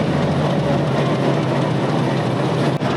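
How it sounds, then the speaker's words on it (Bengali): A Narayanganj commuter train stands at a station with a loud, continuous broadband rumble and hiss, steady throughout and close by, with one brief dip near the end. "এই যে আমাদের ট্রেন।"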